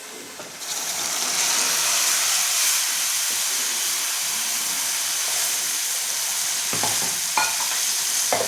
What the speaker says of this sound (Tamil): இப்போ அடித்து வச்சா தக்காளி ஊற்றுறோம்